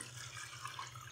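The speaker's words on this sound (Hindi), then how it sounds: "और इसमें यखनी ऐड कर देंगे।" Chicken stock (yakhni) being poured into a cooking pot for pulao, a short, quiet, steady trickle and splash of liquid.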